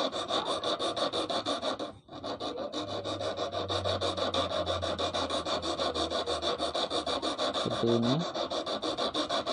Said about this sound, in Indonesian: Kikir diam, isi kail pancing yang bergerak atau mutar ya.